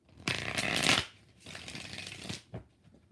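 Tarot cards are shuffled by hand in two quick, crisp riffling bursts close to the listener, followed by a brief soft tap, with no talking.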